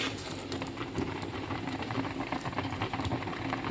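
Creamy pasta sauce simmering in a pan gives off a steady bubbling, crackling sizzle that fills the whole stretch at a moderate level, with no voice over it.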